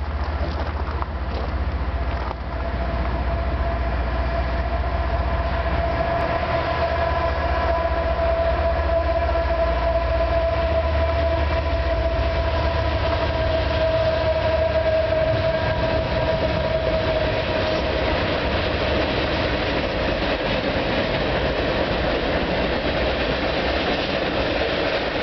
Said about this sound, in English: we got a westbound train coming.